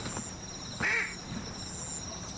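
A single duck quack rings out in a small video game, short and clear against a steady background of soft ambient music and hiss.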